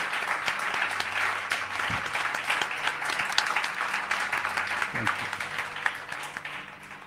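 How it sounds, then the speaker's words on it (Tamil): Audience applause after a Carnatic music concert at a festival stage, a continuous wash of clapping at moderate level, with a few low thumps and faint voices underneath. "கச்சேரிக்கு தனியாக ஒரு கரகோஷம் கொடுங்க எல்லாருமே."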